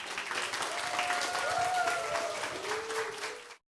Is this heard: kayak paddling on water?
no